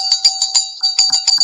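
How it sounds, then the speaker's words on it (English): A small hand bell rung in quick rhythmic shakes, bright sustained ringing tones with repeated strikes over a second and a half, close and fairly loud. "So, if I could just start off by ringing my bell"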